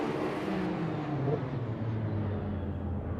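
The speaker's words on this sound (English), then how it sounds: "the first car on the straight as the Audi joins" A race car roars along the straight at Fuji during a six-hour endurance race, an Audi joining, with a loud continuous engine drone that shifts in pitch as it passes.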